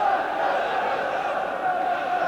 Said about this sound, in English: the crowd beginning to respond again to try and lift Newcastle